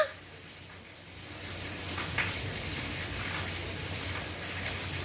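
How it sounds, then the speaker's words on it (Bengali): Rain falls outside a home in a steady, moderate patter with a faint hiss, continuous and even at a mid distance, and no one speaks. "বৃষ্টির আওয়াজে আজকে মিঠুর ঘুম ভেঙে গেছে"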